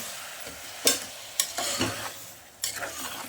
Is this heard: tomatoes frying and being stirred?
yes